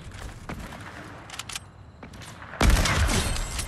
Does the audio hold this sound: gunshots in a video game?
yes